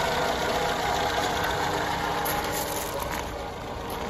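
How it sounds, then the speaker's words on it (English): A Lanchester LD10 Barker saloon engine, fitted with a new carburetor, runs at a smooth, steady idle, a continuous close mechanical hum without any voices. "Engine is in a new carburetor, as you can hear, runs very sweetly."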